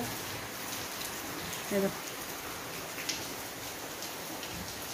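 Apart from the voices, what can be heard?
rain falling outside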